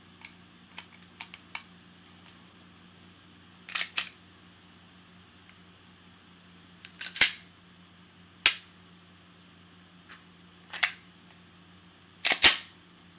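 Sharp mechanical clicks and snaps from dry-firing a gun with a dummy round, a few isolated distinct clicks spaced seconds apart against a quiet, faintly humming room, close to the microphone with no talking.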